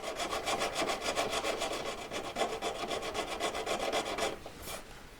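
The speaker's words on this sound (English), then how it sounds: "So just filing straight down, going up and down." Hand filing a V-claw, a rapid steady run of rasping back-and-forth strokes, close and even in rhythm, ending with a last stroke or two before it stops.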